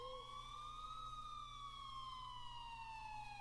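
Police sirens wail at a distance in an animated scene, a steady, rising and falling tone that carries through the whole stretch over a low background hum, with no talking.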